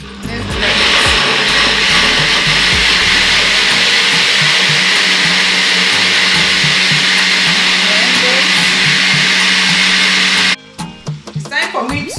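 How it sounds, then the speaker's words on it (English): A blender whirs loudly and continuously, running about ten seconds as it purées boiled fresh tomatoes, onions and habanero pepper, then cuts off abruptly, leaving a few clattering handling sounds. "Now I'm blending my fresh tomatoes, onions, and habanero pepper that I boiled"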